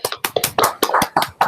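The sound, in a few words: audience applause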